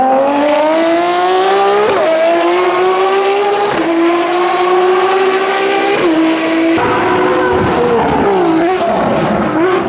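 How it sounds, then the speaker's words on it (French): A blue and yellow Ferrari FXX-K race car drives fast on the Spa track, its engine loud and close with high revving tones that rise and shift repeatedly as it accelerates and changes gear, with no talk. "il y avait juste la plus belle Ferrari FXX-K au monde"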